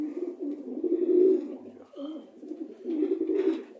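A male pigeon gives low, throaty coos close by, in a soft rolling phrase, a brief pause, then another rumbling coo, with faint background hiss.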